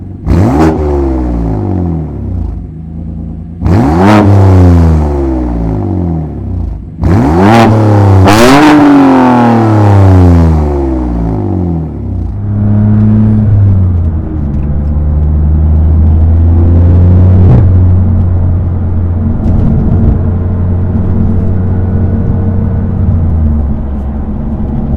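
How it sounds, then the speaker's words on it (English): A BMW F80 M3 with its exhaust tuned for no burbles, pops or bangs: several sharp loud revs rising and falling, then a steady deep exhaust drone while driving, close and loud with no talking. "I wanted to experience the car and the exhaust sound and just hear what it sounds like with no burbles, no pops, no bangs"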